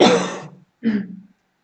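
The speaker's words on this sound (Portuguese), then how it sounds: "Vou ter que resolver essa tosse." Two rough coughs in quick succession, loud and close, with a short pause between them and silence after.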